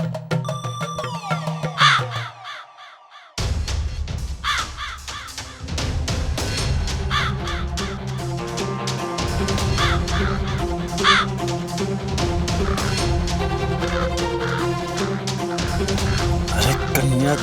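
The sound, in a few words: crow cawing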